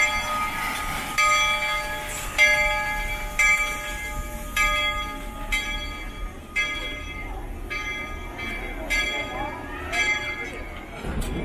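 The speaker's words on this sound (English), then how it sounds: "gonna take a ride on the Calico Railroad" Calico Railroad train ride at Knott's Berry Farm, a steady rolling rumble with repeated ringing bell strikes and clanks, with a voice talking over it.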